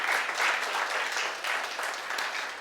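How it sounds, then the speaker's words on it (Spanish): A church congregation applauds together, a dense, steady burst of clapping from a crowd in a hall, moderately loud and sustained throughout with no other sounds. "Démoselo bien fuerte ese aplauso al Señor."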